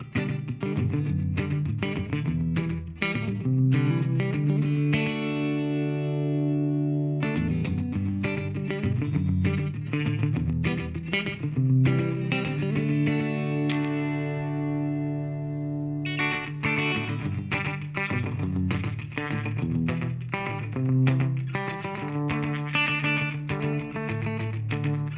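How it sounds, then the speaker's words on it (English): An electric guitar played through a Fender Mustang Micro headphone amp with slapback delay and reverb, loud strummed chords and picked notes ringing with a quick doubled echo and lingering wash, no talking. "This is a slapback delay and reverb."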